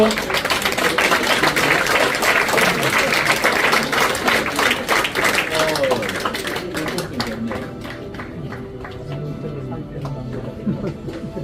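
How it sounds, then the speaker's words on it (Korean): Sustained applause from the audience at an award ceremony in a press center, loud dense clapping filling the first part, then thinning out and fading to quieter room sound with scattered claps. "박수로 환영해 주십시오."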